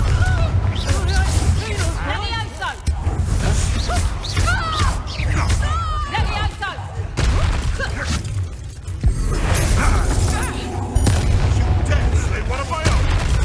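Confringo blasting spells burst in Hogwarts Legacy, a video game, as repeated heavy booms and crashes over a dense, constant bed of game sound, with voices talking throughout.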